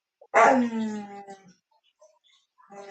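A dog lets out one loud, drawn-out whining yelp up close, followed by a short quiet stretch and a faint sound at the end.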